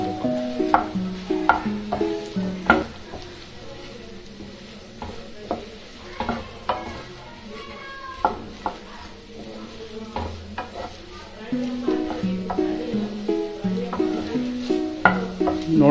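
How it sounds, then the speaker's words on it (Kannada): Already-fried potatoes are mixed in a frying pan in a home kitchen, with a long run of irregular scraping and stirring strokes over a faint, steady sizzle, close and moderately loud, and no talk. "ಇದಕ್ಕೆ ಆವಾಗಲೇ ಫ್ರೈ ಮಾಡ್ಕೊಂಡಿರೋಂಥ ಪೊಟ್ಯಾಟೊ ಸೇರಿಸ್ಕೊಂಡು ಚೆನ್ನಾಗಿ ಮಿಕ್ಸ್ ಮಾಡ್ಕೊಬೇಕು"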